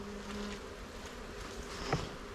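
Honeybees humming steadily inside a tightly fitted nuc bee box, a close, low continuous buzz with a brief knock near the end and no talking.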